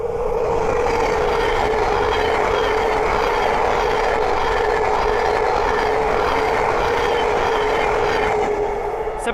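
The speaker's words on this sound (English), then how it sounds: "the next way to pass by is a Thameslink 700 from" A Thameslink Class 700 electric train passing at Great Wymondley on the East Coast Main Line, running Brighton to Cambridge, gives a steady, loud, continuous rumble and rushing roar that holds for the whole stretch without pause.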